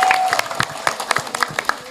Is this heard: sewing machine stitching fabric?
no